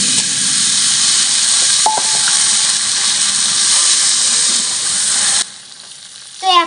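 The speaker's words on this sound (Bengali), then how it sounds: "এখন আমি কড়াইয়ে সরটা দিয়ে দেব।" Milk cream cooks down in a wok to make homemade desi ghee, a loud continuous steamy hiss and sizzle that cuts off abruptly near the end, leaving quieter faint noise.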